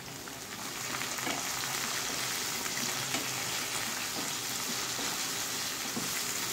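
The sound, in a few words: vegetable stalks added to frying spice paste, sizzling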